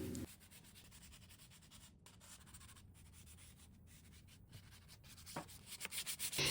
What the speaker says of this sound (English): then sanded the nightstands again with 220 after I completed that process